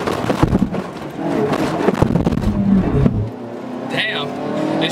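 An RSX Type-S and a Subaru WRX launch in a drag race with loud, rough engine roar and revving that bursts and then fades, while a voice speaks near the end.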